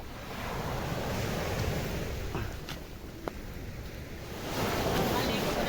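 Sea waves wash steadily onto a beach, a continuous broadband surf roar with wind buffeting the microphone, swelling slightly louder toward the end.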